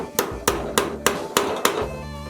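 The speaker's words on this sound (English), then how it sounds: "the only thing that we're going to do is just clamp down that tab" Tab clamped down on a metal jig held in a vise while making a turkey mouth call: six sharp, ringing metallic knocks at a steady quick rhythm, close and loud, then the ring fades.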